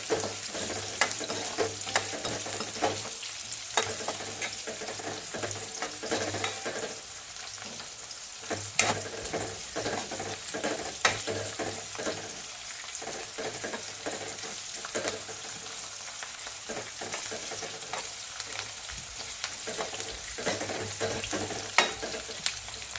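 Onion and garlic fry in a pan for aloo matar pulao, a soft continuous sizzle broken by repeated clicks and scrapes of stirring, close and fairly quiet, with no talking.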